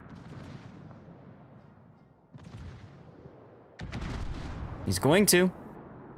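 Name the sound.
torpedo hitting a ship in a naval battle video game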